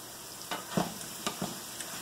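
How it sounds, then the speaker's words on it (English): Onions and mushrooms sizzle steadily in butter in a pan, with a few soft scrapes and clinks of stirring; no voices. "I'm sauteing some onions and some mushrooms in a couple tablespoons of butter"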